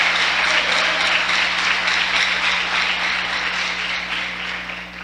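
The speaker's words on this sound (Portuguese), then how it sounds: "Então dá uma salva de palmas ao Senhor." A church congregation at a conference service claps together in a sustained, loud wash of applause that fades gradually over several seconds, over a constant low hum.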